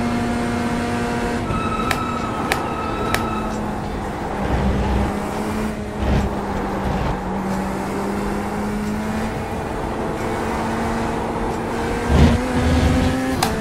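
Ford Mustang GT3 race car engine in iRacing, a steady tonal drone with shifting pitch as revs rise and fall, with brief sharper whines and bumps over a continuous road rumble.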